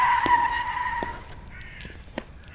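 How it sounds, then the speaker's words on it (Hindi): A car on the road brakes suddenly and its tires let out a sustained squeal that fades within a second, followed by a few faint knocks and clicks in a quiet setting, with no talking. "पर जब रास्ते में ड्राइवर गाड़ी चला रहा था तब अचानक से उसने ब्रेक लगाया"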